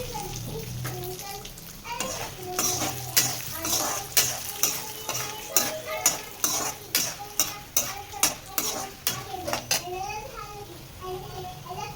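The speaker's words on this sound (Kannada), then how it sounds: "ಹಾಗೆ ಸಾಸಿವೆ ಹಾಕೊಳ್ತೀನಿ." Mustard seeds hit hot oil with chillies for a tempering, giving a run of sharp crackling pops and spattering bursts over a low sizzle, with a voice heard faintly in the background.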